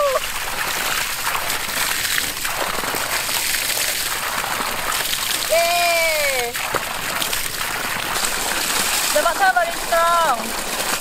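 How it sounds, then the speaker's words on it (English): Strong gush of water pouring from the pipe of a 7 m deep well auto pump on a farm, a steady loud rushing splash that runs throughout, with a person exclaiming and speaking over it. "Wow, the water very strong."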